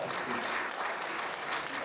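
A crowd claps steadily for a guest at a voice-actor convention panel in Norman, Oklahoma, the dense applause holding at a constant level for the whole brief moment.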